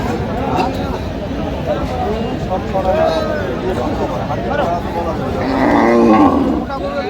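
Cattle moo repeatedly, some loud and close, over the busy murmur of a crowded Dhaka cattle market with people talking.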